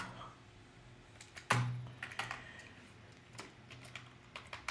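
Light clicks of a computer keyboard being typed on in short bursts, quiet and close, with sparse irregular keystrokes and a brief louder knock partway through.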